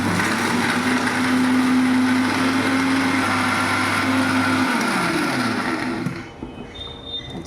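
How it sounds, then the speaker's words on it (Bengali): A kitchen mixer grinder grates bread pieces with a loud, steady high-pitched whirring drone that lasts about six seconds, then winds down and stops. "প্রথমে এই পাউরুটিটাকে একটু কুচি করে আমি মিক্সিতে গ্রেট করে"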